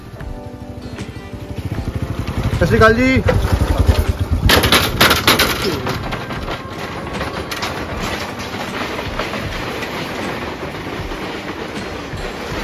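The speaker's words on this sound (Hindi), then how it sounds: "भाई ये मोटरसाइकिल तो चली गई" A heavy motorcycle rumbles loudly across a wooden bridge in Punjab, its engine and the clattering boards building to a peak midway before a steadier, rougher rumble carries on; someone briefly speaks at the start.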